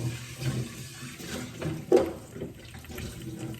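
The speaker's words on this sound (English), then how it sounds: "I'm washing my pan." Hot water runs from a tap over a frying pan in a kitchen sink, a steady splashing stream with a brief louder gush midway, close and alone.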